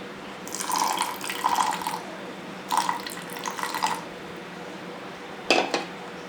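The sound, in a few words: adding water to appam batter while grinding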